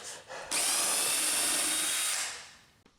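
A power drill whines loudly for about two seconds, boring dowel holes into wood boards, then winds down to quiet.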